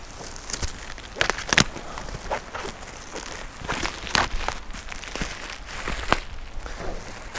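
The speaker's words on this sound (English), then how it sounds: "let's get unwrapping" Plastic packaging crinkling and rustling as a Titan Covers load liner for a VW Up GTI is unwrapped, with scattered sharp crackles and rips rising over a steady close-up rustle.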